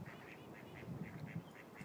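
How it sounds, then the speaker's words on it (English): Mallard ducks quack in a steady, rapid series of short nasal calls, several in a row, fairly close and clear over a low background hum. "Duck. Duck. Duck. And quack quack."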